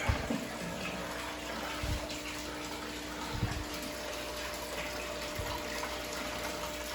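Water runs steadily through the pipes of a fish room overflow water change system, a continuous hiss and trickle with a few low gurgling thumps, moderately close, no talking.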